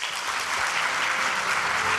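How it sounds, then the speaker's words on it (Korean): Audience applause fills the room at the close of a corporate investment presentation, a steady, dense clatter of many hands clapping at even loudness throughout, with no voices over it. "정말 박수가 절로 나오는 투자 규모였죠."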